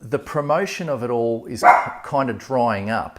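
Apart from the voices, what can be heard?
dog barking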